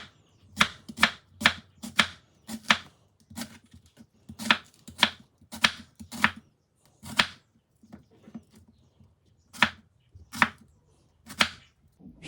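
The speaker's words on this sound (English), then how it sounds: "Slice the onions." A knife slices onions on a chopping board in steady, crisp strokes, coming in quick runs with short pauses, close and clear, with no talking.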